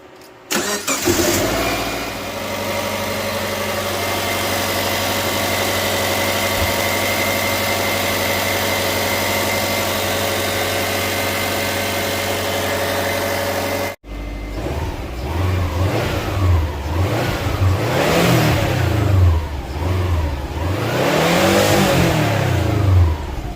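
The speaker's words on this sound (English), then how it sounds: "We're just gonna start the engine to see what kind of result" A car engine cranks and starts, idles steadily, then revs up and down repeatedly in rising and falling sweeps, close and loud.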